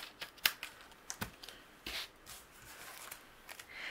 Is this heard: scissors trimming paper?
yes